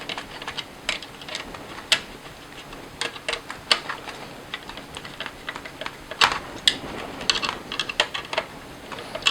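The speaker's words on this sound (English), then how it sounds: "now we can go ahead and screw down our cable clamp" A screwdriver tightens the cable clamp on a surface-mounted LED panel light, giving close, quick clicking and ratcheting taps in uneven bursts with no talking.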